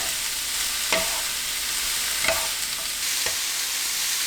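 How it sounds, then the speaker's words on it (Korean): Cabbage and onion stir-fry over high heat in a pan already holding carrot, with a steady close sizzle broken by three soft spatula clacks. "양배추와 양파 넣고 볶습니다."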